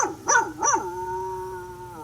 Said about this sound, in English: Once upon a time, there was a dog